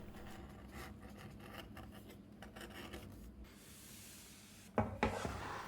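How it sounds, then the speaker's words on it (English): An edge beveler scrapes along the edges of cut leather pieces in quick, quiet rhythmic strokes, followed by a pause and a couple of sharper knocks near the end. "After cutting everything out, we can now bevel the edges."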